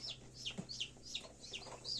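High, thin peeping from newly hatched chicks inside an incubator repeats in quick chirps, faint and steady, with no voices present.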